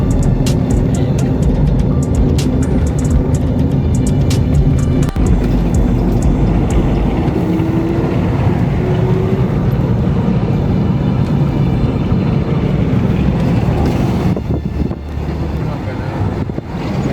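Car driving through the Honde Valley in Zimbabwe's Eastern Highlands, a loud, steady engine and road rumble with wind buffeting the microphone, continuous from start to end.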